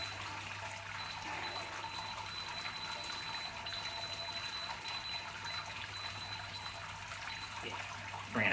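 Liquid drains steadily from the mash during homebrewing of a 23-litre batch, a continuous low trickle under a constant hum that ends in a brief louder splash.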